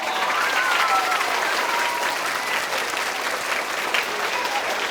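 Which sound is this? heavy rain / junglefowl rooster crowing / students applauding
students applauding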